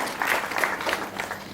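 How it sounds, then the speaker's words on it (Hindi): Audience applause at a Father's Day event, a moderate burst of clapping from the crowd that swells and then tapers off. "एक जोरदार तालियां इनके लिए भी"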